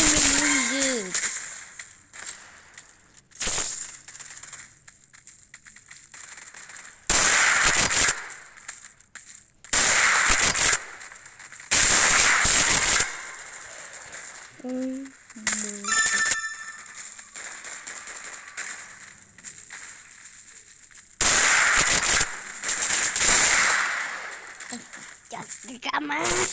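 Gunfire in the video game Combat Arena, with loud bursts of shots in several separate volleys and quieter gaps between them, while a player talks over the action.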